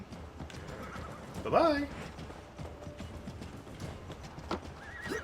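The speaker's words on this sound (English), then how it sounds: "With a horse waiting for me at the other end." In Assassin's Creed Valhalla a horse's hooves clip-clop along as it gallops, with one loud whinny rising sharply in the middle; someone talks briefly over the hoofbeats.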